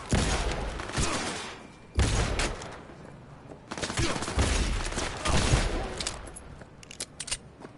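Gunfire in the video game Cyberpunk 2077, with loud bursts of rapid automatic shots and heavy impacts that come in clusters, mixed with other game noise and some voices.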